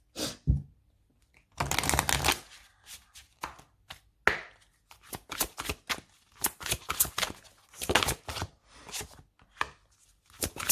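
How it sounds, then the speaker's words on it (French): Oracle cards are shuffled and riffled in bursts of crisp papery flicks and taps, separated by short pauses, close and fairly quiet with no voices. "On va prendre 3 cartes."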